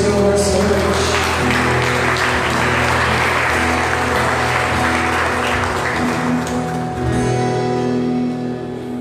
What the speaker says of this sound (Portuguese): Você pode aplaudir o Senhor nessa noite